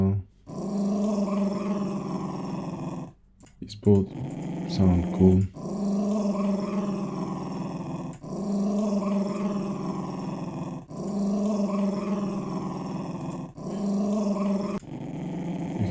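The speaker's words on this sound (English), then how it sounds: "the growling and the hissing sounds interesting" Growling creature sounds from a sound-design library play as a series of sustained, rumbling growls repeated in roughly even bursts, with a short spoken remark cutting in between them early on.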